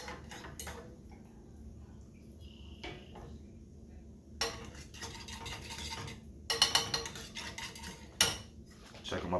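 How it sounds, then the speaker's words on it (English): Pancakes get pushed around a pan with a utensil, quiet scraping and clinking in scattered bursts, a few sharper knocks near the end, no voices. "I'm just gonna stir them around"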